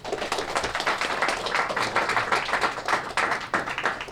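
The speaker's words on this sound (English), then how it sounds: "Let's give him a round of applause." A crowd applauds a speaker at an evening public forum on clemency for incarcerated people, dense rhythmic clapping sustained and fairly close, filling the whole stretch without talk.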